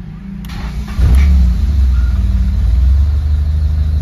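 A Honda Accord Maestro engine, a car prone to hard starting and stalling, idles without the gas pedal pressed, a loud steady low rumble that swells after a second and holds, close up with no talk.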